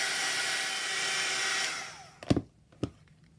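A heat tool or hair dryer blows steadily over a paper craft tag for about two seconds, then cuts off, followed by two soft knocks close by.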